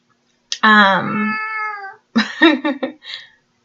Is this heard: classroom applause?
no